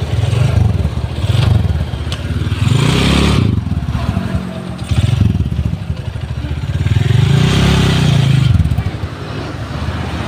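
A motorcycle engine revved by twisting the throttle, loud and close, rising and falling in several surges with mechanical clatter throughout.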